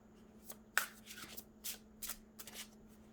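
A large Oracle of Visions oracle card deck being shuffled close by, in a series of quick riffling bursts with short pauses between them.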